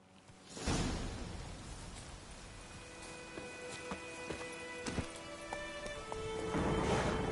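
Rain pours down on a boat in The Witcher 3, a steady broadband hiss that comes in after a quiet start and carries on throughout. Scattered tonal game sounds and ambience sit over it.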